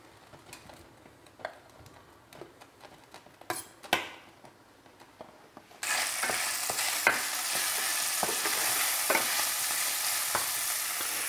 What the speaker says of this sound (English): I'm just going to start with a little bit of olive oil in the pan, not too much because I expect that sausage will render a fair amount.